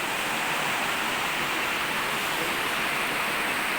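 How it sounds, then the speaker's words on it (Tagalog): Strong river current rushing: a steady, dense broadband roar of flowing water, constant and unbroken throughout, with no other sounds. "Doon kaya kami sa may ilog na yun, pero ang lakas ng tubig."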